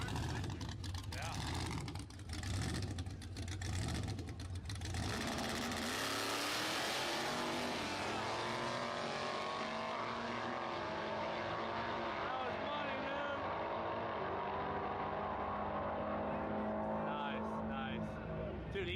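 A video-game car with a pulley-driven supercharger at about 12 PSI of boost doing burnouts: a loud, continuous engine roar with tire screech that swells and holds for many seconds, with people talking over it.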